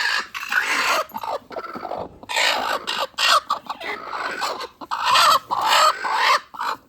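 Hen clucking in agitated bursts while eggs are checked beneath her, close and lively, with repeated squawking calls in an uneven rhythm.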